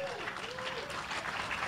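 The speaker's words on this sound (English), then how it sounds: "How about another round of applause for Ghazi and Graham?" An audience at a conference stage event applauds, with a steady wash of clapping heard alongside a voice talking.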